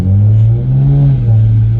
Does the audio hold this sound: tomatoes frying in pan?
no